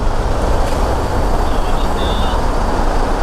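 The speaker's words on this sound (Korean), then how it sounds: "그키 맞춰가지고 지금 시동 걸어봤는데" An Audi A6 petrol engine, just started after sitting abandoned and now leaking fuel, runs at a steady idle, a continuous close rumble with no pauses throughout.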